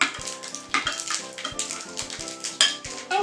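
Glittery Christmas slime being stirred and squished, with repeated wet, sticky clicks and squelches in an uneven rhythm, close and fairly quiet.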